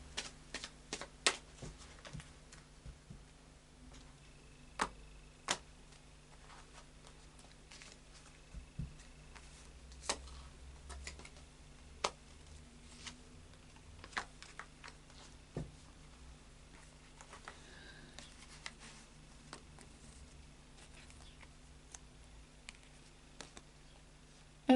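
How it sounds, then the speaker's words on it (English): Tarot cards being shuffled by hand, a soft quiet patter of papery taps and riffles that come in scattered bursts over a faint steady background hum. "2 more shuffles, please."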